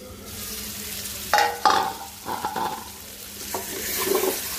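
Rohu fish curry with tomato, peas and potato frying in oil as it is stirred, producing a soft sizzle broken by several louder scraping stirs and clatters of the spoon in the pan.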